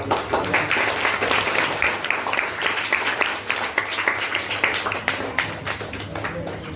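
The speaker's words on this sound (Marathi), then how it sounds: "त्यांचंही आपण टाळ्या वाजवून" An audience applauds teachers at a school Teachers' Day celebration, steady dense clapping from many hands filling the room continuously, fairly close and loud, no talk over it.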